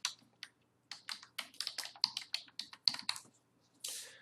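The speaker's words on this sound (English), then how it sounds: "so I'll just type in the name" Typing on a computer keyboard, a quiet series of separate key taps in an uneven rhythm, a few isolated strokes then a quicker burst of about a dozen clicks, heard alone in a still room.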